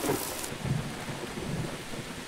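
Heavy rain falls in the video game Don't Escape 4, a dense continuous hiss with low rumbling beneath, loudest at the very start and then settling into a steady downpour with no voices.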